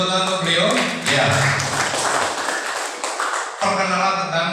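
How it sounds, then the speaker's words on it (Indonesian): An audience at a company general manager's presentation claps, with sustained applause that swells and fades over a few seconds and briefly breaks before resuming. "Bapak Ibu beri tepuk tangan untuk beliau"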